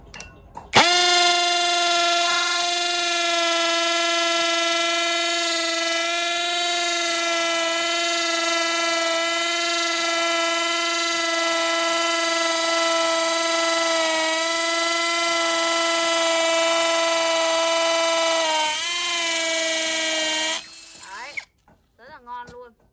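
Makita 13 mm three-function drill boring into solid brick gives a sustained, loud, high motor whine for about twenty seconds, wavering in pitch near the end before cutting off.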